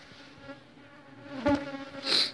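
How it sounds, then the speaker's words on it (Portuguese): Large bee buzzing close by outdoors at night at a cassava and corn bait site, a steady drone that swells sharply as it passes near, with two louder surges toward the end. "isso aqui é um abelhão"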